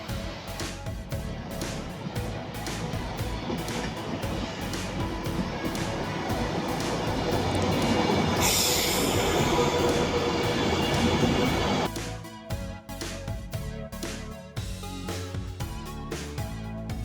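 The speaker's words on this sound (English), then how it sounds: "Now we wait for our train to take us to Birmingham." A train pulls into a station platform with a broad rumbling roar that swells and holds, then drops to a hiss and clattering rattles as it slows.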